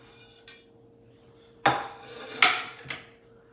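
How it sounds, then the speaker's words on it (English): Dry pasta is dropped into a metal pan in a home kitchen, giving a few sharp, rattling clatters spaced apart over otherwise quiet surroundings, the middle two strikes loudest. "we'll drop the pasta in the pan"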